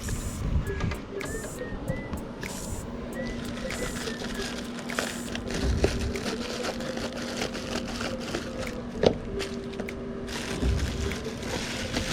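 Plastic packaging is torn open around a replacement carburetor kit for an Echo string trimmer, packed with a fuel filter and fuel lines. Close, steady crinkling and rustling continue throughout, with scattered small clicks and taps and no talking.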